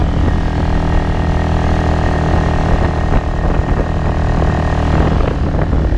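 An engine with a new carburetor roars steadily near full throttle, about 4,800–4,900 rpm, beside the Vistula River, a loud continuous drone with a buzzing, propeller-like tone and no talking.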